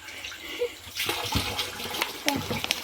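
Water from a household tap filling a container, a soft splashing with a few sharper knocks, quiet and close, no voices.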